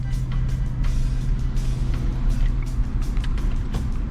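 A car rolls slowly at idle during a driving test in Florida, with a steady low engine hum and road rumble and faint clicks and rattles, close and continuous.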